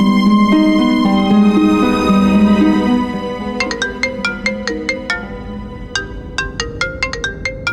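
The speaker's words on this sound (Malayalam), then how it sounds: "ദേ, ഡോക്ടർക്ക് ഫോൺ." A phone in a Malayalam TV drama scene rings loudly with a melodic ringtone that shifts into a repeating pattern of bright chiming notes. No one speaks over it.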